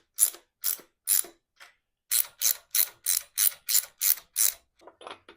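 Close, crisp bursts of wrench ratcheting on a 1990 Harley-Davidson Sportster 883 wheel: three clicks, a pause, then a quick even run of eight, ending with fainter clicks.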